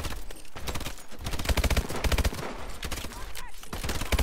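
Gunfire in the video game Call of Duty: Advanced Warfare, dense rapid automatic shots in close, loud bursts with brief gaps, no talk.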